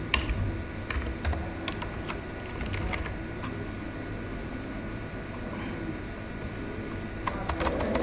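Typing on a keyboard or phone to search for LESCO on Google, a run of light, irregular clicks and taps over a steady background hiss, close by and without talk.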